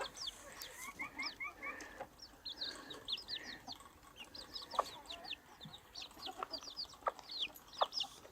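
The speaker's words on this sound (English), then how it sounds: "And we have Pepper and her adopted chicks." Hen clucking softly among her adopted Ixworth chicks on a farm, with the chicks peeping in quick high chirps throughout, everything faint and close with no talking.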